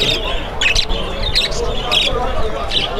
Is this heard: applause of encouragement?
no